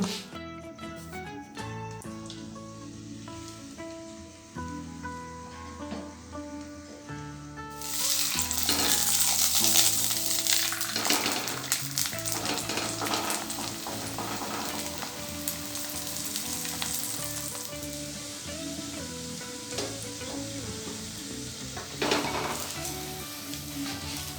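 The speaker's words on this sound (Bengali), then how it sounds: "পরোটাটা বেলা হয়ে গেছে, এবার আমি ভেজে নেব।" A soybean-stuffed paratha fries in a pan with a steady, close sizzle that swells noticeably louder partway through and stays dense and crackling to the end, with no voices.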